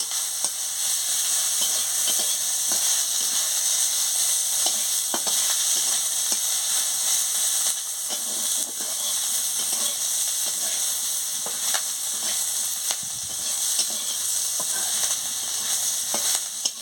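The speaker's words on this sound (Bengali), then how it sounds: "পেঁয়াজ কুচানো আর আদা বাটাটা দিয়ে দিচ্ছি এর সঙ্গে, দিয়ে ভালো করে ভেজে নিচ্ছি" Onion and ginger paste fries steadily in a pan with chopped onion, giving a loud, continuous broadband sizzle and hiss, broken by occasional light scrapes and clicks of stirring, with no one speaking.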